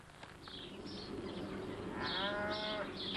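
Cattle low and moo in the Kosovo countryside near Prizren, with several drawn-out calls in the second half, fairly close, over a steady outdoor background hum.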